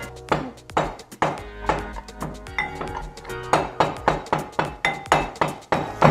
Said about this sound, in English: So now I'm going to put them in the pestle and mortar.